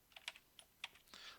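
Quick, light keystrokes on a computer keyboard, a few separate taps then a short burst, close and fairly quiet with no talking.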